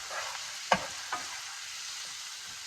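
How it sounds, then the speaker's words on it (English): A quick stir of Portuguese tomato rice with bay leaf in a pot, a couple of soft scraping clicks over a steady low simmering hiss, close and fairly quiet with no voices. "So I'm just going to give that a quick stir as I continue doing that here."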